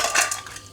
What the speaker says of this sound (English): my blender is ready, and the first thing I'm going to add is the ice